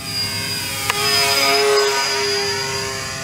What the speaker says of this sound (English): Coming by, putting the gear out as it goes by.